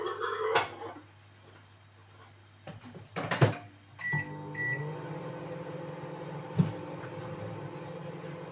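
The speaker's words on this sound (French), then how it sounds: "Alors ça, je mets dans le micro-ondes." Microwave oven humming steadily as it heats pizza on a plate, with dishes clinking, a cupboard knock and soft kitchen handling noises scattered over the quiet running tone.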